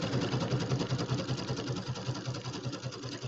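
A sewing machine runs steadily, zigzag stitching a settee pillow, its needle making a fast, even mechanical rhythm with a motor hum underneath, close and continuous throughout.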